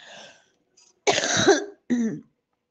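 A woman coughs close by, a faint rasp followed by two harsh, throaty coughs separated by a short pause.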